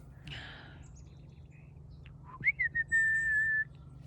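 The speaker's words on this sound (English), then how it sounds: "Chickadee, chickadees." Chickadees calling outdoors: a few quick faint notes followed by a clear, sustained whistled tone, heard over a low, steady background hum.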